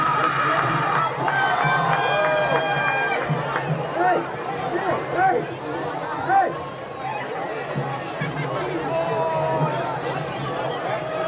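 A home crowd in the stands at a high school football game makes a steady roar of cheering and chatter, with someone talking clearly over the noise.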